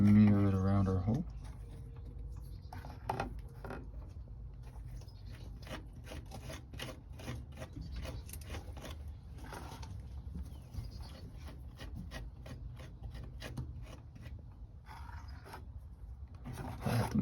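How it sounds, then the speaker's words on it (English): JB Weld epoxy being smeared over a hole in the floor of a 1986 Ford Ranger truck, a steady run of soft, rhythmic rubbing and scraping strokes, close and fairly quiet. "I'm going to take my JB Weld and smear it around our hole."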